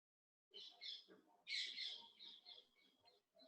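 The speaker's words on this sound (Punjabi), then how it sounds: "ਤੁਹਾਡੇ ਪਿੱਛੋਂ ਚਿੜੀਆਂ ਦੀਆਂ ਆਵਾਜ਼ਾਂ ਮੈਨੂੰ ਆ ਰਹੀਆਂ ਨੇ" Sparrows chirp faintly in the background of a call, with a run of short, bright chirps in quick bursts, one louder cluster midway, heard quietly and without speech.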